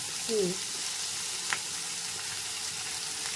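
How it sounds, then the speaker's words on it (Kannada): Chicken 65 pieces fry in hot oil in a pan at home, a soft steady sizzle running throughout with a brief clink of a utensil near the start and a faint tap midway. "ಇವಾಗ ಇದೆಲ್ಲ ಫ್ರೈ ಆಗಿದೆ"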